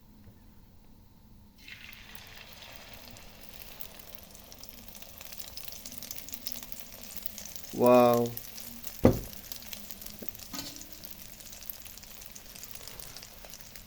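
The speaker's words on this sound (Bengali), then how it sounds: "ডিম ভাজতেছে আমার চাচা।" Village eggs fry in a pan at night, a steady soft sizzle starting abruptly and continuing throughout, with a brief exclamation and a sharp clatter partway through.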